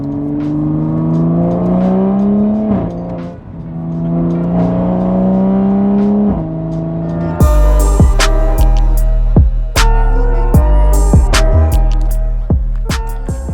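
A Toyota A90 Supra with a full exhaust system being driven up close, rising engine tones across several gear pulls, then sharp popping and crackling bursts from the exhaust as it revs, with no talking.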